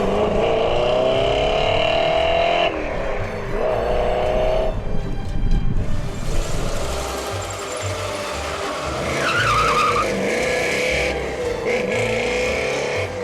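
A muscle car with a rebuilt T5 transmission drives on a track, engine note changing through gears with a brief tire squeal, steady and close throughout.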